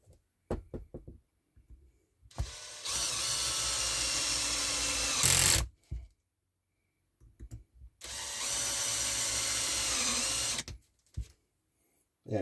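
Power drill driving a screw through a plastic thread during an ARRMA Gorgon RC monster truck kit build, two sustained bursts of whirring separated by handling clicks and knocks, close and alone.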